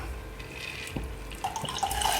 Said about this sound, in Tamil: நல்லா தண்ணி மூழ்கிற அளவுக்கு தண்ணி ஊற்றிக்கணும்.